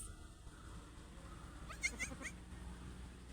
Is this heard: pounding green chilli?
no